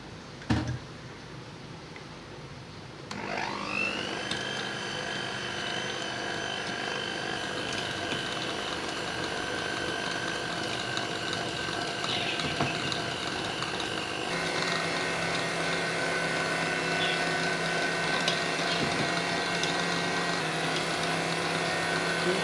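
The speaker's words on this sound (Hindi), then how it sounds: "अब हम इसमें एक एक करके अंडा डालेंगे और बीट करते जाएंगे।" An electric hand beater whirs steadily through creamed brownie batter as eggs are beaten in one at a time, a continuous motor whine that starts about three seconds in and runs without a break, fairly loud and close.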